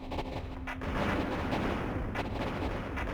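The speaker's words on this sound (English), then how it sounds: "those shotguns are ripping through them like crazy" Shotgun fire in the mech combat video game Mech Engineer, a dense, continuous barrage of booming blasts that blur into one loud roar, with no pauses.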